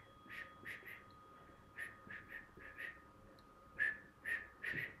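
During a Kundalini yoga breathing exercise, someone exhales through pursed lips in short, repeated whistling puffs, grouped in bursts of two or three, close and fairly soft against a quiet room.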